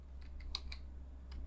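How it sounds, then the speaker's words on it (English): Keystrokes on a computer keyboard while typing into the Windows search box: a few sparse, light clicks in a quiet room, with a steady low hum underneath. "and we're going to type in"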